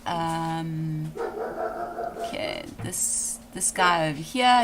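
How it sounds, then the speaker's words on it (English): A dog barks and yips in short bursts close by, mixed in with someone talking over it. "Please excuse my dog, if you can hear it."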